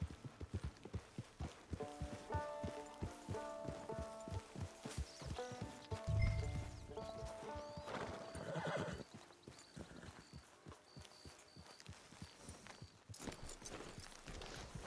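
A horse in Red Dead Redemption 2 clip-clops along at a walking pace, its hooves sounding in a steady rhythm over in-game music, with a loud neigh partway through.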